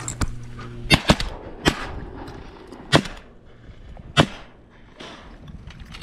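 Shotguns fire at teal during a Minnesota teal-opener duck hunt from the reeds, with about six sharp blasts spread irregularly, a quick pair near the start, then single shots, against a quiet marsh background.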